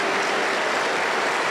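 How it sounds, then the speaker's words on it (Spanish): Church congregation applauding together, a dense, steady wash of clapping that fills the space without a break and with no voices on top. "Aplauso para el Señor Jesús."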